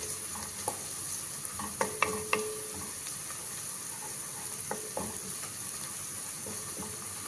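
Onions sizzle steadily in hot oil while frying toward brown for chicken majboos, with a few sharp clinks and scrapes of a stirring utensil against the pan.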